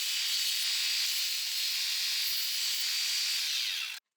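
A belt sander trims the outside edges of a metal hammer with a continuous bright, hissing grind that stays loud and close for about four seconds, then stops abruptly.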